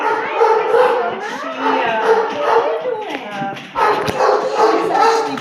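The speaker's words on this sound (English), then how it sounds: "So this is Priscilla's pup." Small, fragile sanctuary dog with liver shunts giving high yips and barks in several bursts, close and fairly loud, mixed with shuffling and a sharp tap near the end.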